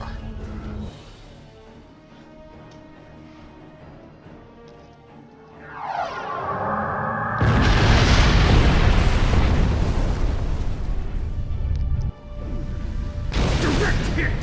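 Starship weapons fire and explosions in the space game Star Trek Online, beginning with a rising sweep and then loud, dense booming blasts that run on for several seconds, with a short break before another blast.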